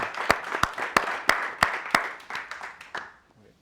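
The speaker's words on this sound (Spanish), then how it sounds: "Un aplauso para Jordi." Audience applause for the speaker Jordi Gracia at a literary talk in Canberra: a small group claps in sharp, regular beats that thin out and fade by the end, close and moderately loud.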